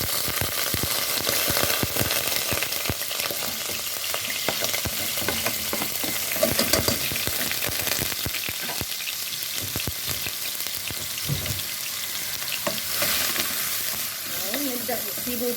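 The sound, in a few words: chopped onions frying in oil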